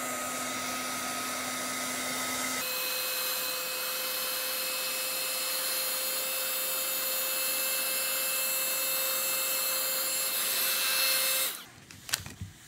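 Continuous whirring blow of a heat gun heat-setting paint on a chip brush, steady and fairly loud with a pitch shift early on, cutting off near the end followed by brief handling clatter.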